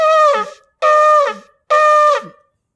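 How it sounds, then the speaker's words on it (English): Shivarim on a shofar: three separate moaning blasts, each about half a second long with a slight downward bend at the end, spaced by short silences, close, loud and unaccompanied. "The shivarim, the gnicha, the moaning sound in 3 parts will sound like this."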